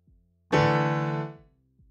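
A single sampled piano note or chord rings out from the EXS24 sampler in Mainstage, sounding with a sharp attack and sustaining about a second before fading, alone and without speech.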